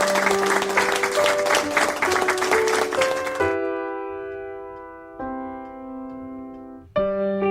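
A studio audience applauds at a supermarket promotions show, a dense burst of clapping over a bright jingle for about three and a half seconds. The clapping then stops and the sustained musical tones continue alone.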